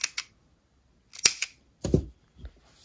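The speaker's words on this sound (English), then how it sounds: "Then you can cut your yarn" Scissors snip through yarn in a few crisp, close clicks, a pair of quick cuts followed after a pause by several more sharp snips in a quiet room.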